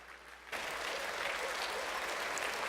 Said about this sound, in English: How about a round of applause for Zanelle?